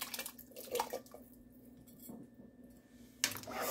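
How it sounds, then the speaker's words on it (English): A can of kidney beans with their juice is tipped into a soup pot of olive oil, garlic and peppers, with faint metallic clinks, a soft pour and a sharper clank near the end. "We're going to add one can of kidney beans with the juice."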